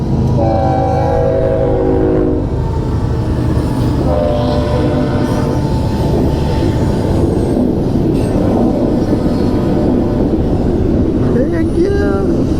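A train rumbles past close by, with long horn blasts sounding near the start and again around the middle, over a steady loud roar of wheels.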